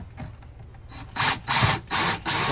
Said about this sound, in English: Once those are firmly screwed down on both sides